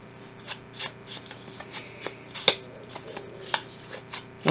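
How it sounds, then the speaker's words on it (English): Quiet, close snips and rustles of paper being trimmed for a craft project, coming as a loose series of short crisp cuts with small handling sounds between them and no talking. "I may cut it down a bit more."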